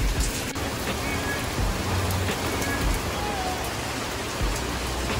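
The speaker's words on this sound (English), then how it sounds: "So it started to rain" Steady rain falls outdoors around a BMW E90 335i parked for engine mount work, a dense even hiss of drops on surfaces that carries on for the whole stretch with no voices.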